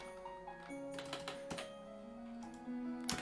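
Computer keyboard typing during an online game of Town of Salem, a quick run of soft key clicks with a couple of louder taps near the end, heard over steady game music.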